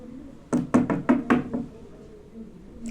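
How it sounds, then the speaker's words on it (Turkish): Knocking on a door: a quick series of about six sharp raps in an uneven rhythm, loud and close, then quiet with a faint thump near the end. "çalma lan kapıyı"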